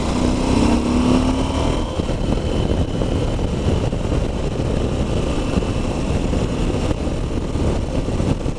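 A KTM 790 Adventure motorcycle ridden along quiet countryside roads, its engine droning steadily under heavy wind rush, with a brief rising tone early on and no break in the continuous noise.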